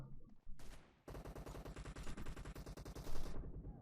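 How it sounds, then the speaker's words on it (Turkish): Rapid automatic gunfire from several players in PUBG, with a short burst followed by a sustained, evenly spaced stream of loud, close shots lasting a few seconds. "Abi kaç kişi sıkıyor ya?"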